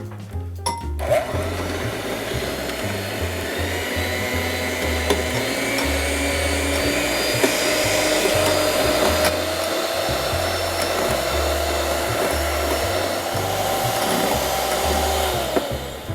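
An electric mixer whips iced coffee dosed with chocolate bitters, a loud, steady motorized whir running unbroken for about fifteen seconds after a brief click at the start.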